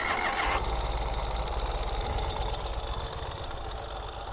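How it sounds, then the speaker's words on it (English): A 2023 Ural Gear Up sidecar motorcycle with a fuel-injected engine starts with a short crank, then settles into a steady, smooth idle with a low, even throb, recorded close by and without speech. "Starts right up, runs super smooth. It is fuel injected."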